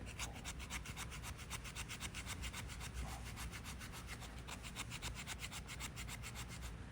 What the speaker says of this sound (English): this is better suited to make some nice thin little curls here, fat wood